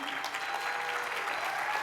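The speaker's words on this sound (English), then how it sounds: "can I have a big round of applause for Joy as she walks up on stage?" An audience at a keynote event claps steadily and fairly loudly as a woman named Joy walks up onto the stage, an even, unbroken burst of applause with no speech over it.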